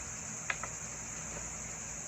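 Crickets in a box chirp in a faint, steady high trill, with a couple of soft clicks or taps early on and a low background hum.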